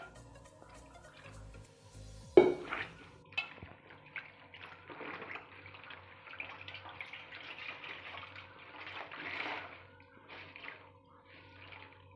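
A kitchen cloth is dipped and wetted in cold water in a bowl, a sudden splash followed by soft sloshing, squeezing and trickling drips, close and fairly quiet.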